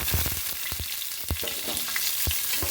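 Onions frying in an oiled pan for dal palak, with a dense, steady sizzle and several sharp spatula knocks against the pan, close and fairly loud.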